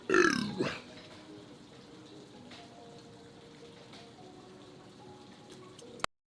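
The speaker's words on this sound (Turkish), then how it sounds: "herif geğirme gurmesi arkadaşlar" A man lets out a loud, rough belch in the first second, then only faint room noise and small ticks follow until a sharp click at the end.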